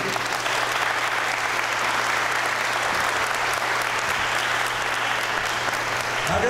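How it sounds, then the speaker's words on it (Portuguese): A crowd at a football championship awards ceremony applauds loudly and continuously, a dense, steady wash of clapping that holds throughout without letting up. "Eu queria que vocês aplaudissem, Lulinha."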